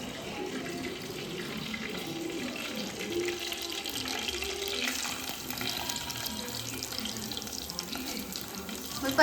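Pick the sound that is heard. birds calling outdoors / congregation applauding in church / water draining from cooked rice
water draining from cooked rice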